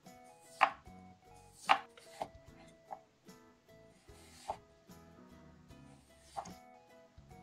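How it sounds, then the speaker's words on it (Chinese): A knife chops through washed, unpeeled potatoes into thin slices, giving a few distinct close thuds spaced irregularly over a faint steady background hum. "准备2颗土豆，清洗干净，不需要去皮，直接切成薄片。"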